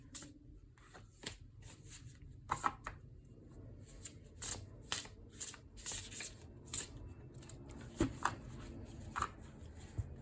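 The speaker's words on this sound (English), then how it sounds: "So I will probably do a combination of rifle shuffling and overhand." Repeated tarot card shuffling, soft snapping riffles mixed with gentler sliding overhand passes, a steady rhythm of short bursts close by, no one talking.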